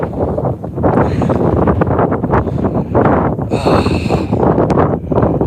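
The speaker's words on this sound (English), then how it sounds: "It's really windy now. Can you hear the wind?" Strong outdoor wind buffets the microphone in a constant, loud roar with gusty surges, heard on its own without any talking.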